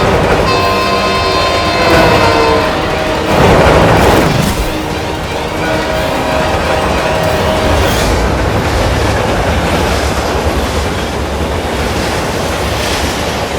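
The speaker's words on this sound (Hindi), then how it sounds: "ट्रेन अपनी तरफ आ रही है।" A train rumbling nearby under heavy wind and wave-like noise, with a louder swell around the fourth second and steady rail clatter throughout, no voices.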